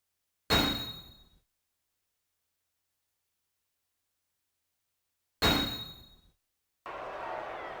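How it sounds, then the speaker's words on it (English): Ring bell in SmackDown vs Raw 2006 gives two sharp metallic clangs about five seconds apart, each ringing out briefly, followed by a rising wash of crowd-like noise. "The referee's calling for the bell."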